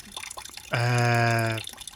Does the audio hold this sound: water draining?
yes